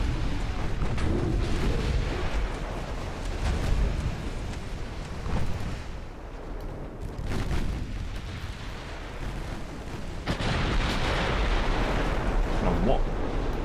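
Steady rumbling barrage of a warship's secondary guns in a naval battle game, booming shots blending into a continuous roar with a sharper blast near the end, under a voice commentating.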